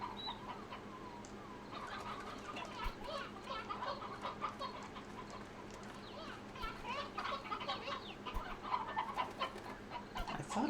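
A large flock of chickens in the video game Slime Rancher clucks and squawks in overlapping bursts, busy and close, with voices mixed in underneath.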